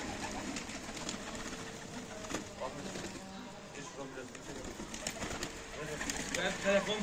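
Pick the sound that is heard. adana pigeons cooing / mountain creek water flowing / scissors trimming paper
adana pigeons cooing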